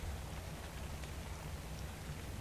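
Rain falls steadily in ARK Survival Evolved, a continuous even hiss of drops with a low rumble underneath, moderately quiet and without speech.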